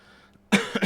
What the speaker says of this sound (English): I still have a little cough because it's like still happening